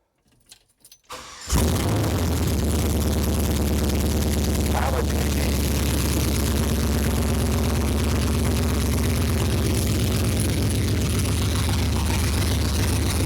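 A 1972 Chevrolet C10 truck engine cranks briefly, then catches and settles into a loud, steady, somewhat rough idle close by.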